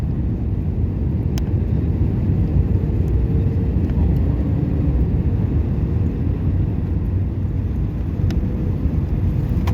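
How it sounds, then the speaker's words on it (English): An airliner landing at Kelowna fills the cabin with a steady, loud low engine and airflow roar that holds evenly throughout, with faint occasional clicks over the top. "Final land, we are landing here now"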